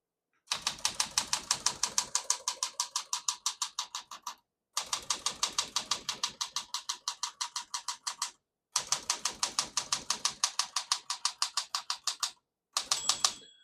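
Fast, steady keystrokes clack on a 1968 Smith-Corona Classic 12 portable typewriter, set to single spacing, in three long bursts with brief pauses between them, then a short final burst; each strike is sharp, close and clearly separate, with no talking.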